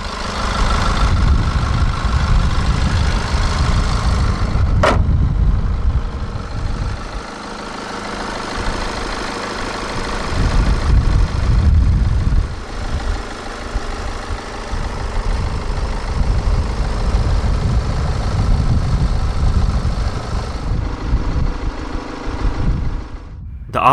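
A 2012 MINI Cooper SD hatch, an R56 with a diesel engine, idling just after start-up, a loud, steady low rumble with a faint clattery knock that holds for the whole stretch, recorded close with no talking.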